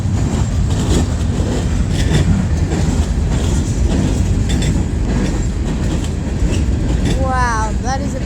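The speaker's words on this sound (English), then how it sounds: "The train is going through." Freight train rolling through a level crossing at close range, with a continuous loud rumble and rhythmic wheel clatter. Sharp wheel squeals rise near the end, and people talk now and then over the noise.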